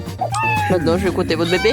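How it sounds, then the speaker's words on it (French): A cat meowing repeatedly in short, wavering cries under someone speaking French, close and fairly loud, with several rising and falling meows packed into under two seconds. "Pourquoi elle miaule?"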